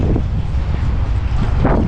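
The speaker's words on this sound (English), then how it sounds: "the wind might be kind of crazy" Steady gusting wind buffets the microphone outdoors at a car meet, a continuous low rumble with slight swells and no talking.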